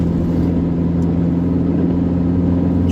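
A Roewe 216 car accelerating, its engine giving a steady, loud mid-pitched drone with a constant hum throughout, heard continuously from inside the car.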